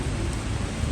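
Steady rain falls in a dense, even hiss on a drive to dinner, constant and close for the whole moment with no voices over it.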